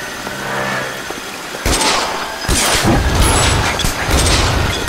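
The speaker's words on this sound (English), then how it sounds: "There was an explosion." An explosion in the video game L.A. Noire erupts suddenly with a loud broad boom, then rumbling debris and roar that sustain to the end, after a quieter stretch of low game ambience.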